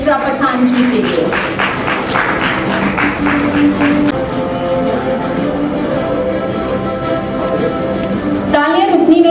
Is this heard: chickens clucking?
no